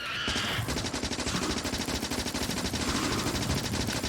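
Gun turrets in the video game Factorio fire in a dense, rapid, continuous rattle of automatic shots, loud and steady for the whole stretch with no voices.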